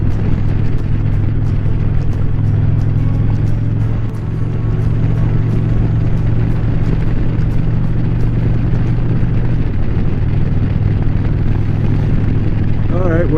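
An Indian Challenger motorcycle rides along a road with a steady, loud low engine drone and constant wind rumble throughout, close to the microphone, with no talk.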